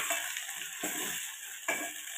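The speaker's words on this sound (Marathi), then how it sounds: "आता आपण याच्यामध्ये एक बारीक चिरलेला टोमॅटो घालून घेऊया." Steady sizzle of onion and finely chopped tomato frying in a pan for Kolhapuri misal, with two stirring bursts over the continuous crackle.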